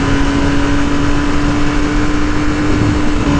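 A 2018 Triumph Speed Triple 1050 S motorcycle riding through curves, its engine a steady loud drone with a constant tone and heavy wind rush, no pauses throughout.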